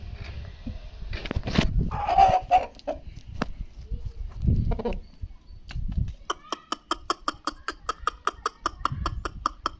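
A Tamil Nadu rooster kept for breeding clucks and calls in bursts at close range, followed by a rapid run of sharp regular clicks or taps near the end, with faint background voices.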